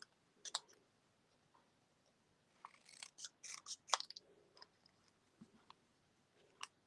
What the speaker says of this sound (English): let me just see if I can cut this straight.